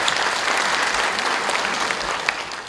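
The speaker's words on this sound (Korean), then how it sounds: "우리 하나님께 감사의 박수를 드리겠습니다." A church congregation claps together in a worship service, a dense, even burst of applause lasting a few seconds before tapering off slightly at the end.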